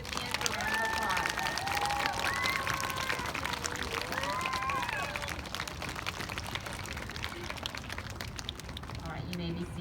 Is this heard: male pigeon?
no